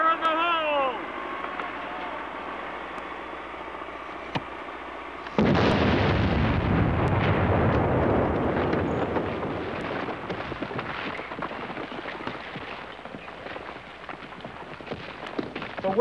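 A loud blast goes off in a film just after someone shouts a warning, a sudden broad roar that holds for several seconds and slowly thins into rumbling debris and scattered crackles.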